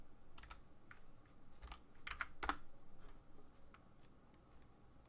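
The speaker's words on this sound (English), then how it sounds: "go to my Google Chrome browser and type in Grammarly for MS Word." Fingers type on a computer keyboard to enter a search in a web browser, producing quiet, irregular clicks with a short burst of louder keystrokes midway, close and alone.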